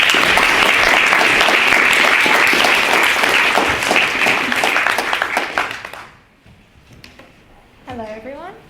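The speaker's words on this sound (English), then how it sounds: "So we'll give Josie a big round of applause, please." Loud, dense applause from a university debating society audience fills the room for about six seconds before fading out, followed by a brief voice.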